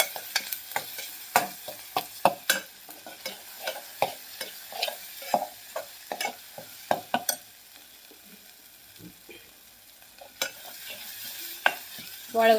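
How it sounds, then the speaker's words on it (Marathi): Spice masala stirred and fried with onion and tomato in a pan for a Maharashtrian sandga curry, close-up spoon scrapes and soft sizzling in irregular bursts, quieting briefly near the end before the stirring resumes. "तर आपल्याला या कांद्याबरोबर हा मसाला भाजून घ्यायचा आहे बघा"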